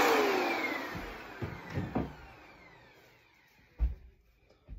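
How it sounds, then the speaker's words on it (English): A Eureka EasyClean handheld vacuum with its hose attached whines loudly at first, then its motor drone fades, broken by a few dull knocks and bumps nearby. "All right, get the hose out, turn it on."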